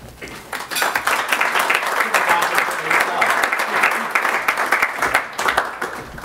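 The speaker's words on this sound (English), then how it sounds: "That was a long pause before the applause." Crowd applause at a Politics & Eggs breakfast event after a guest speaker is introduced, loud continuous clapping from a room full of people lasting about six seconds, with some voices faintly mixed in.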